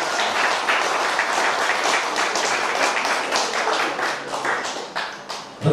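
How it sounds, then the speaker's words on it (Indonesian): Lively applause at a Pemuda Batak Bersatu installation ceremony for the Ciputat branch leadership, a loud continuous wash of many hands clapping that thins near the end with a sharp sound at the close. "Beri tepuk tangan yang meriah"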